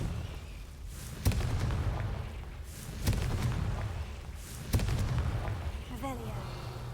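Explosive spell blasts in the video game Hogwarts Legacy: three sharp booming bursts roughly every 1.7 seconds over a constant low rumble of game ambience, followed by a brief rising magical chime near the end.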